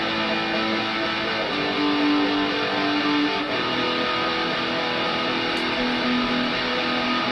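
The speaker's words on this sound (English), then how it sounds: "The guitars by itself are really just straight up just power chords" Heavily distorted electric guitars play simple, sustained power chords in a cover, forming a dense, loud, continuous wall of sound with shifting chord changes throughout.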